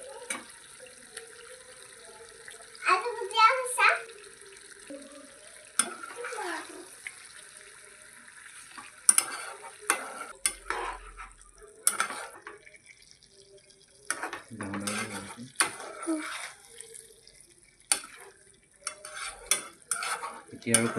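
A spoon stirring and scraping through Assamese-style duck curry with ash gourd and potatoes in a pan, in intermittent close bursts with quiet gaps, plus faint sizzling and some light clatter.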